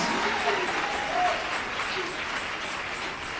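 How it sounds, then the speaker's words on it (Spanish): A church congregation claps in praise, a dense, moderately distant wash of applause that holds steady and eases slightly toward the end, with faint voices mixed in. "Dale ese aplauso de alabanza a Jesús de Nazaret"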